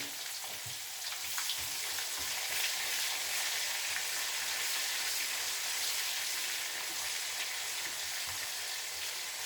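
Onions frying in oil in a pan for Pakistani-style kadhi pakora, a dense, steady sizzle close up that runs unbroken throughout, with faint occasional stirring taps underneath.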